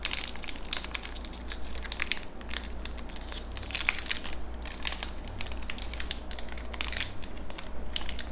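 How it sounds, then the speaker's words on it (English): A sticker pack is torn and crinkled open by hand, a dense run of crisp rips and crackles up close over a low constant hum, without talking. "Do I rip this pack? Do we rip it, chat? Yeah, let's just rip it open."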